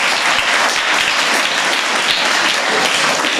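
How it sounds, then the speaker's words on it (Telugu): Loud, dense applause from a church congregation at a village Mass, sustained and even throughout without a break. "గట్టిగా చప్పట్లు కొడదాం అందరి కోసం"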